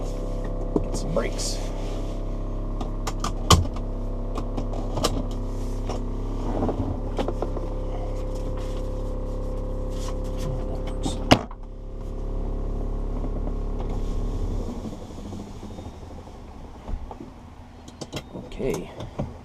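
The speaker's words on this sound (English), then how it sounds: "Let's turn the vacuum pump on." A vacuum pump hums steadily inside an electric-converted BMW 320i, a constant low drone that cuts off near the end, with brief clicks and a voice speaking over it.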